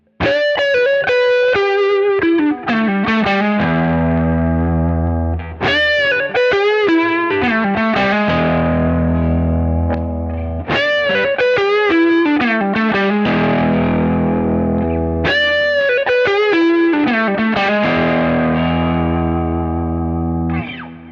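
An electric guitar plays chords and riffs through a real Klon overdrive pedal, warm, steady and loud with ringing sustain, repeating a phrase several times without any voices.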